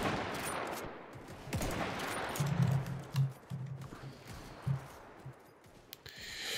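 Musket volleys in Mount & Blade: Warband, a scattered series of gunshots firing at irregular intervals, with several louder reports in the middle over a steady background din of battle.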